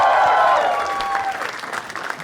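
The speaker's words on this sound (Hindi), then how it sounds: "जोरदार तालियां for Raghu Ram" An audience claps loudly to welcome a guest onto a comedy show stage, with a brief whoop or vocal tone at the start before steady applause continues.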